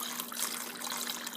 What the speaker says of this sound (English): Take my jar of tomato juice and just start pouring.